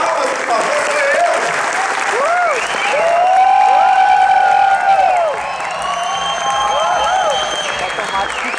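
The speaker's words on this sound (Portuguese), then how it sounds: "Gente, mais palmas, por favor, sou eu!" Theatre audience at a poetry performance applauding in sustained clapping with whoops and cheers, while a performer's voice calls out over the crowd.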